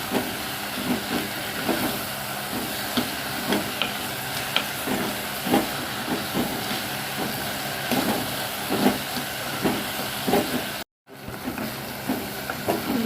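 Chopped vegetables and tomatoes sauté in hot oil for an okra tamarind curry, a steady close sizzle with repeated stirring scrapes throughout, briefly cut to silence near the end before the frying resumes.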